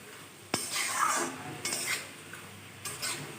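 A spoon scrapes and clinks against a pan while cabbage curry with potato, tomato and peas is stirred, in a few soft separate strokes over a faint background sizzle, close and quiet.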